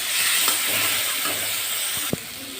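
Shrimp curry with turmeric and ground spices being fried and stirred in a wok, a steady close sizzle with scraping stir strokes and a sharp clack near the end.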